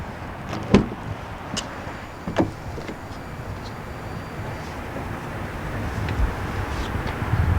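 A couple of sharp mechanical clicks and thuds as the door latch of a 2019 Audi Q5 releases and the door swings open, against a steady low background hum.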